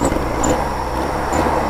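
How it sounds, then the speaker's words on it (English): A Kawasaki KZ1000 with a carbureted engine rumbles at a low, steady idle up close, waiting at a traffic light with faint road noise around it. "Carburetor bike sounds so cool."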